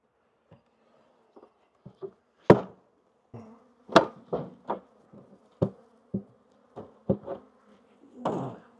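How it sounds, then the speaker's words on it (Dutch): Honeybees in a strong colony inside a beehive buzz faintly, with intermittent sharper knocks and taps of hive parts being handled standing out close by. "En ook hier zie je hoeveel bijen hier nog in zitten."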